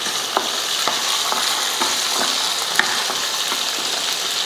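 Shallots, garlic and tamarind are sautéed in a pan with a loud, steady sizzle. A spatula scrapes and taps in a regular rhythm through the frying.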